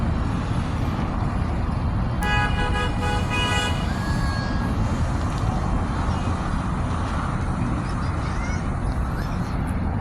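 Heavy traffic rumbles steadily at the Jeddah Stadium work site, with many vehicles passing and a burst of layered horn toots rising over the constant roar near the middle.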